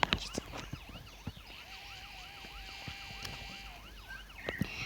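A police car siren sounds in a driving video game, a sweeping wail that rises and falls over engine noise and sharp clicks, with no voices over it.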